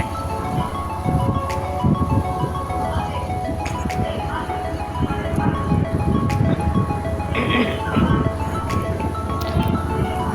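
A motor scooter engine hums steadily on a highway, with wind and traffic noise around it.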